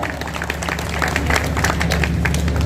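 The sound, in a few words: audience applause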